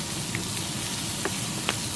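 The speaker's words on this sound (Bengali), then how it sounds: "এটাকে এখন ভালো করে ব্রাউনিশ করে ভাজতে হবে।" Dried chili, garlic and onion frying in hot oil, a steady dense sizzle with a few small pops and spatters, close and continuous.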